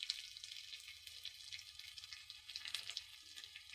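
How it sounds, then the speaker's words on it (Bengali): Spice paste with ground chilli and turmeric fries in a pan with a soft, steady sizzle, stirred now and then, quiet and close with no voices. "মশলাটা কষাতে কষাতে আমরা গুঁড়ো মশলা দিয়ে দেবো"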